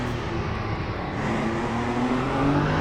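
Endurance race cars in Le Mans Ultimate at Bahrain, Porsches among them, hum steadily at mid distance through heavy braking into a complex right-hander; engine drone stays even and continuous, with no clear squeal.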